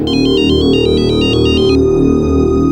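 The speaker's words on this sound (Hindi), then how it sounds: "शिवा को फोन लगाओ।" A ringtone chirps in a rapid repeating electronic pattern for about two seconds, then stops, with a low hum continuing underneath.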